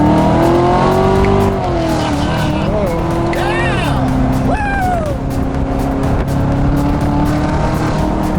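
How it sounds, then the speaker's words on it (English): A sports car, either a Lamborghini Gallardo 560-4 or a Corvette Z06, accelerates on a track. A loud, continuous engine roar climbs in pitch through the gears with brief tire squeals, while voices talk over it inside the car. "Does it accelerate pretty quick?"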